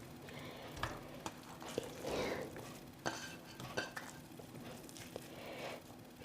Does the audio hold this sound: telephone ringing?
no